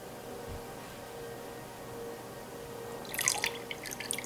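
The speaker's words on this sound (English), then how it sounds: "I'm going to pour this back gingerly because I don't want to stir up any sediment" Homebrew liquid is poured slowly back into a container over settled sediment during racking. After a near-silent stretch, a faint, close trickle with small drips arrives near the end.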